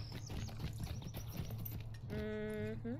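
Horse hooves clip-clop in quick, steady steps in a Lord of the Rings video game, followed by a short neigh, heard fairly faint under a low background hum.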